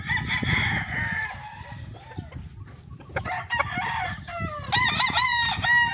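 A Black Spartan gamefowl rooster crows loudly and close by, with a couple of full cock-a-doodle-doo calls and some clucking in between, heard plainly on its own.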